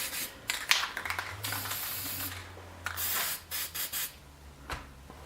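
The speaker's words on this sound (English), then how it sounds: "spray a little bit of white" A can of white spray paint hisses in several short, close bursts of varying length, with small clicks and mechanical rubbing between the sprays.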